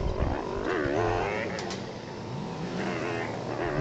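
Busy street traffic on the way to Divisoria in Manila, with motorcycles weaving between vehicles; a steady, loud wash of engines and revving sits close by, with overlapping voices talking through it.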